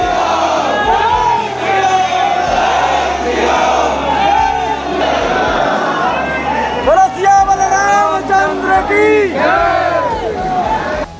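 Dense crowd packed inside Hanuman Garhi temple in Ayodhya, loud overlapping voices, shouts and chanting-like calls forming a continuous hubbub close by.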